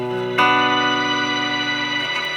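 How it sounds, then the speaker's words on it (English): Electric guitar chord played through a TC Fluorescence shimmer reverb pedal with its tone adjusted, ringing out sustained with bright, layered reverb tails that hold steadily before thinning slightly near the end, with no talk. "So that's the shimmer reverb pedal."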